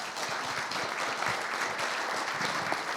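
An audience applauds at the end of a round-table panel at a cybersecurity conference, a full, continuous patter of clapping held at an even level throughout, without speech on top.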